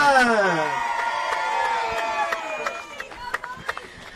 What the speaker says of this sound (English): Let's give a big, huge round of applause for Colby Garrison